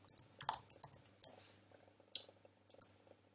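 Typing on a computer keyboard while entering a name into an online cover-photo design tool, with quick irregular bursts of sharp clicks and pauses between them, close and fairly quiet, with no speech.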